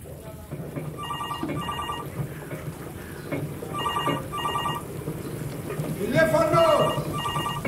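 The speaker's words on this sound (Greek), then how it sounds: "Τηλέφωνο!" An old-style telephone rings indoors in repeated paired bursts, fairly faint under background noise, with a voice shouting near the end.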